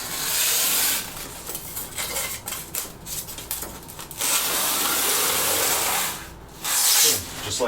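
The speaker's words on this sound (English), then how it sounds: "I'm just going to slide it along the floor so that it'll actually scribe the" Drywall panel sliding along the floor of a home studio build, a loud broad scraping hiss in several long strokes broken by short pauses.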